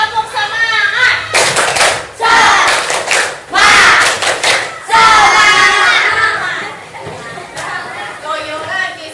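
A classroom of children doing the rhythmic Indonesian 'tepuk semangat' spirit clap, loud patterned bursts of clapping mixed with chanting voices and a teacher talking.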